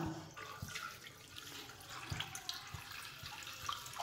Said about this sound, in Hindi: अब इसमें शामिल कर देंगे 3 से 4 गिलास पानी